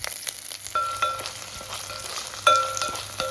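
Lemongrass and chopped spring onion frying in a pan, a steady sizzle broken by scraping stirs and clinks of a utensil against the pan, close and fairly quiet.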